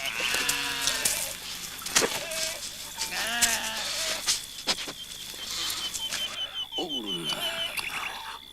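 Sheep bleat repeatedly in a pastoral setting around a shepherd eating, several overlapping calls near and far over birdsong and a steady background hum.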